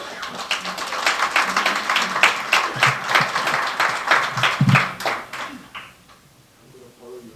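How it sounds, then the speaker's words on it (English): Enthusiastic applause from a conference audience rolls on at a cell and gene therapy conference, moderately loud and uneven, then tapers off and fades near the end. "And a big round of applause for Dr."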